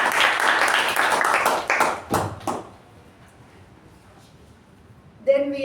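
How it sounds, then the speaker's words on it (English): Applause from a Toastmasters club meeting audience fills the first two and a half seconds with dense clapping. It then thins to a few scattered claps and fades to near silence before a voice begins at the end. "a big round of applause to President Shiva's speech"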